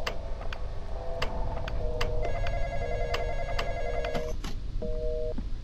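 In the Roblox horror game The Intruder, a telephone rings with a steady electronic trill over a low rumble of background noise. Ticking clicks sound under it, then a shorter second ring follows near the end, with no talking.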